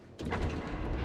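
A gunshot in the video game Little Nightmares: one sudden broadband burst that stays loud and noisy for about a second, with no talk over it.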